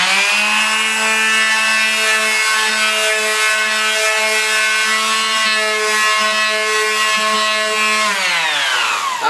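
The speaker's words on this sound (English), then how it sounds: "I'm ready to sand this. All this is nice and hard and dry." A power sander working dried drywall joint compound over a small hole repair runs loud and steady for about eight seconds, its motor whine holding a constant pitch before winding down at the end.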